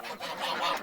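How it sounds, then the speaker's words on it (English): Farm ducks and geese give a brief, close burst of nasal honking and squawking that runs together into one short, loud stretch of calls. "These are our ducks and geese."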